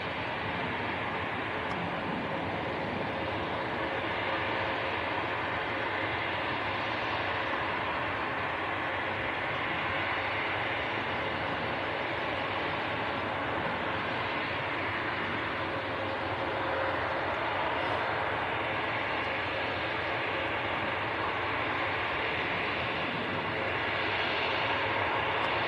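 A Helvetic Embraer E190 jet departing Manchester Airport for Zurich, a steady broad roar of engine noise that swells gently in waves across the long stretch, heard from a distance with no voices.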